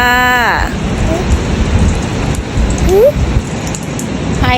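Rain falls steadily against a window during a flood, a dense hiss with some louder patter, joined briefly by a few passing tonal noises.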